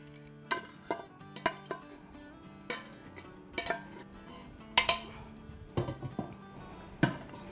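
Bhindi gosht, an okra and mutton stew, is served out of a pot into a dish, with a spoon or ladle knocking and clinking against the metal at irregular moments over a quiet background.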